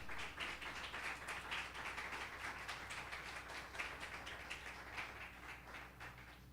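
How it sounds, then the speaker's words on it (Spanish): A church congregation claps in a steady rhythm, faint and distant, with evenly spaced beats running the whole time. "Denle un aplauso al Señor si usted lo cree."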